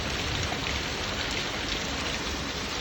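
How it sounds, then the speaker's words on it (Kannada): Monsoon rain in Coorg pouring steadily, a thick close wash of drops hissing on nearby surfaces with an even, unchanging level and no voices. "ನೋಡಿ ಮಳೆ ಒಂದು ಹೇಗಿದೆ."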